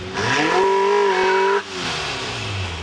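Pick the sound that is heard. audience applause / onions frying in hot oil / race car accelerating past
race car accelerating past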